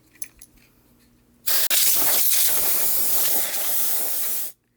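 A duster is sprayed while cleaning a Hello Kitty X Tokidoki Pullip doll, giving one close, loud, continuous hiss of about three seconds with a tiny break near the start, preceded by faint handling clicks.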